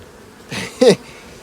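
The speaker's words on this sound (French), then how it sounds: "il y a quelques abeilles qui se cavalent après dedans" A few honey bees buzz around dry, robbed honey supers on a dead hive, two short close buzzing passes in quick succession, the second louder, against a quiet background.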